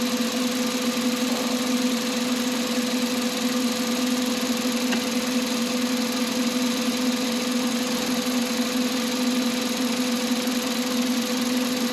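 A 2010 Kia Soul engine, with its intake removed and a P0441 fault being diagnosed, idles steadily after a jump start from a booster pack: a close, even mechanical hum that runs unbroken throughout.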